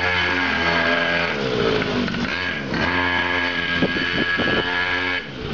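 A pocket bike's small engine runs loud and steady nearby, its buzzing drone rising and falling with throttle blips and a few sputtering dips.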